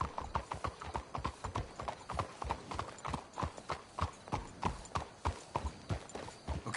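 Horse hooves clip-clop at a steady trotting rhythm in the Red Dead Redemption 2 video game, close and continuous, with faint voices in the background.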